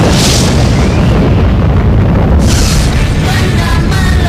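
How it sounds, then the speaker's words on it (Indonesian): A loud, sustained explosion effect with a heavy low rumble filling the whole stretch, and a fresh burst swelling in partway through as the roar rolls on. "Benda meledak"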